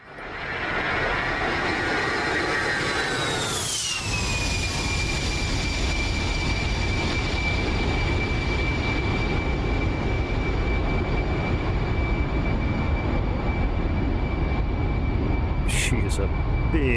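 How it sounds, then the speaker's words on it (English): An A-10A jet passes the viewpoint in the DCS flight simulator game, with a rising whine that sweeps down into a steady, loud engine drone under continuous roar, and no voices heard. "Let's get a nice little flyby for you guys"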